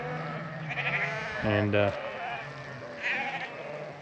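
A flock of sheep is driven across open ground, and a few loud bleats rise near the microphone, one prominent call in the middle, while someone talks over them.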